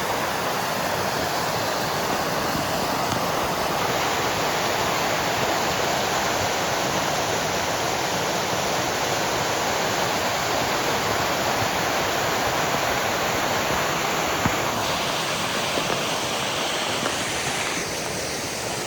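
Waterfall beside a riverside campsite, a constant loud wash of falling water roaring close by with no pauses.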